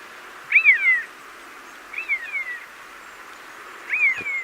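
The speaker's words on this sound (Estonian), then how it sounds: "õnnestus Hiireviu häälitsust salvestada" A common buzzard in the field gives three separate high, descending mewing calls, spaced a couple of seconds apart. They sound moderately distant over a soft outdoor background hiss.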